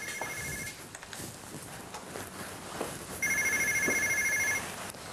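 An office telephone rings in two bursts of electronic trilling, a short ring at the start and a longer, louder one after a pause, over faint room noise and a few footsteps.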